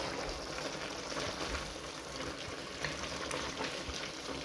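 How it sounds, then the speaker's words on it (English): Garlic and ginger being stirred into a pot of beef stew, a continuous sizzling, bubbling hiss with soft scraping of the spoon, close and steady with no voices. "Now this is my garlic and ginger. You stir this up."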